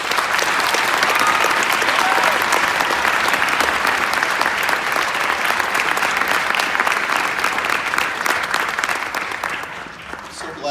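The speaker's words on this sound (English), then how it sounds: "No round of applause for these guys, isn't that great?" Loud, sustained applause from an audience for a high school honor band concert at Cactus High School, a thick crackle of many hands that holds steady and then thins out near the end.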